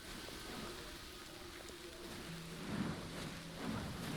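Rain falls in the Mind Over Magic video game, a faint, steady patter and hiss with no talking, while low tones and soft thuds from the game sit beneath it.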